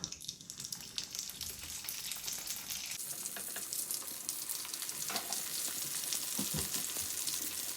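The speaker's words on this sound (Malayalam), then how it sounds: "ഓയിലിലേക്ക് ഓരോ ബ്രെഡിൻ്റെ പീസ് ഇട്ട് കൊടുക്കുക" Bread pieces dropped into hot oil in a heated pan fry with a steady, crackling sizzle, close and continuous, with a few light stirring and clinking touches; there is no talking.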